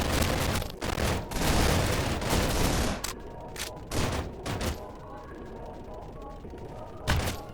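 Gunfire in the Roblox game Arsenal fires in dense rapid bursts for the first few seconds, then thins to scattered individual shots with a final sharp burst near the end.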